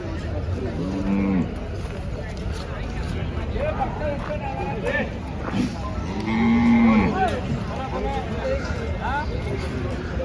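Calves and cattle at a bullock market bellow several long, loud moos in a crowded outdoor setting, with people talking and background babble throughout.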